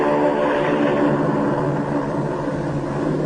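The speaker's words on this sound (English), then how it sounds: "the great TBM makes her takeoff run. Her jet assist bottles blast." A TBM torpedo bomber makes its takeoff run with jet assist bottles firing, a steady loud roar of engine and rocket thrust holding throughout, with no voices.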